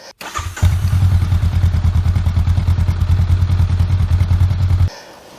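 A Triumph Street Twin motorcycle engine, a parallel twin with uneven firing, starts with a thud and settles into a loud, lumpy idle with a steady pulsing beat close by, then cuts off abruptly.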